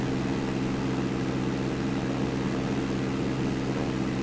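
A Diamond light propeller aircraft taxiing to general aviation parking, heard from inside as a loud, steady engine and propeller drone with constant broadband noise and no breaks.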